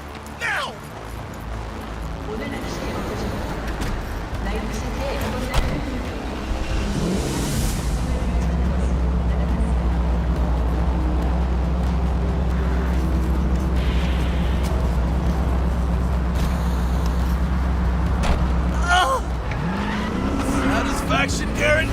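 A car driving in the video game Mass Effect 3, its steady engine drone and road rumble running loud and continuous for most of the stretch, with brief tire squeal or skid-like bursts and scattered game sounds and voices over it.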